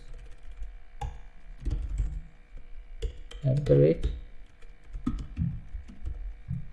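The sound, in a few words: typing an email address on a computer keyboard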